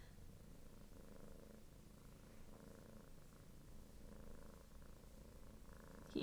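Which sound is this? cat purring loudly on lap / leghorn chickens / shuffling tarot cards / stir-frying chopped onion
cat purring loudly on lap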